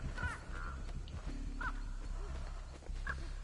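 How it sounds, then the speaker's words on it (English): Crows cawing in the horror video game Dead by Daylight, several short harsh caws spaced apart over a low ambient background, moderately near and fairly quiet. "Trying to get these birds to leave me alone."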